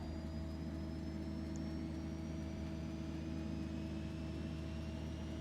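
Aircraft turbine engine spooling up after ignition in the X-Plane 11 flight simulator, a steady, even drone with layered tonal whine and low rumble holding constant throughout.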